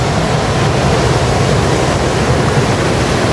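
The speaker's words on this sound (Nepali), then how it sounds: "खोला कस्तो टर्किरहेको छ।" A swollen river roars as a loud, steady, broadband rush of churning water, close by and continuous with no voices.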